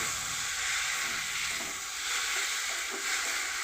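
Paste of ginger, green chili and mustard frying in a pan makes a steady, moderately loud hissing sizzle with faint stirring scrapes and no speech.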